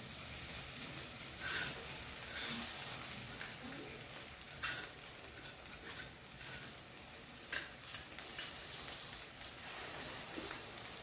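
Cooked rice is stirred through paneer pulav in a pan on low heat: a faint, soft sizzle runs throughout, broken by scattered light scrapes and taps of the spoon against the pan.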